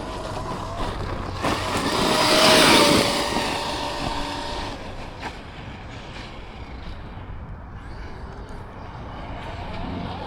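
Traxxas X-Maxx RC truck running at full throttle, a sharp whine that swells loud as it passes close, then fades into a softer, steady drone as it moves away.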